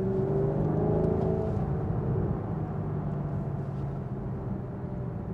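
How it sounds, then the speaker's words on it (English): A Maserati GranTurismo S V8 with the MC gearbox, a continuous engine drone with a low steady hum and tonal whir, loud at first and easing slightly, no voices. "I kind of like the European refined V8 noise. That's where you can hear all 8 cylinders"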